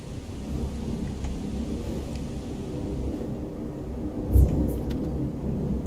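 Steady rain and thunderstorm ambience from a Skyrim weather mod, Scandinavian Seasons Extended, with a constant low rumbling wash and one brief deeper thud near the end.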